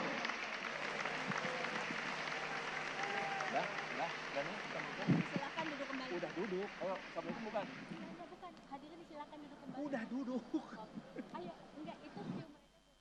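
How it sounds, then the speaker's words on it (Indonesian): A large audience at a NasDem party national working meeting applauds to welcome the party chairman. The clapping is continuous and crowd-wide, with a voice over the sound system and some cheering. "kita sambut dengan tepuk tangan yang meriah kehadiran Ketua Umum Partai Nasdem Bapak Surya Paloh."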